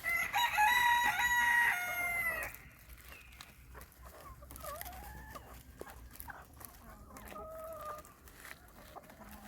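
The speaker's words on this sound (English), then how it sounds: "You can hear other chickens talking" A rooster crows loudly up close, then chickens cluck and chatter softly in the background.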